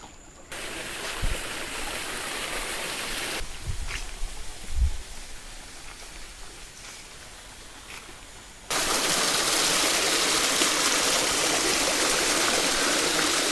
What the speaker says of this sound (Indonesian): ada saluran air, guys